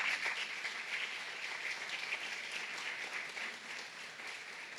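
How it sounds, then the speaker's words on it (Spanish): A church congregation gives sustained applause during a Spanish-language sermon, an even wash of many hands clapping at moderate distance, with no voices rising above it. "dele un aplauso fuerte a él"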